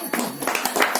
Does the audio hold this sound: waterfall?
no